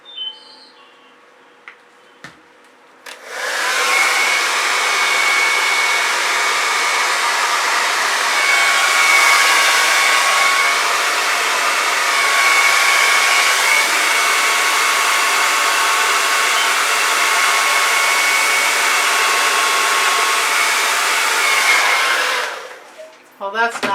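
A hair dryer roars steadily for about twenty seconds, blowing across poured fluid acrylic paint, loud and close, starting abruptly after a few quiet seconds and cutting off near the end.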